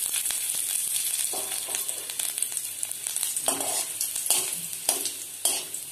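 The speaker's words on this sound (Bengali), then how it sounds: "এগুলোকে হালকা লাল করে ভেজে নেব" Sliced garlic cloves frying in a pan for a snake gourd tadka, a close, steady sizzle with a few louder crackling bursts and light scraping of a spatula, no voices.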